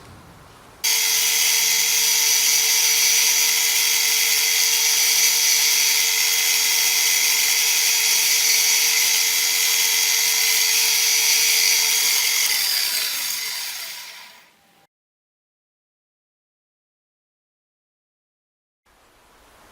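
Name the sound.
power drill drilling holes in a model truck part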